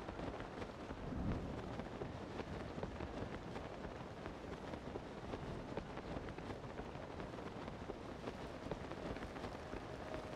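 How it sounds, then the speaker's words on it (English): Steady rain pours throughout a thunderstorm in The Legend of Zelda: Tears of the Kingdom, a dense continuous hiss with faint low thunder rumbles underneath. "Thunder and lightning."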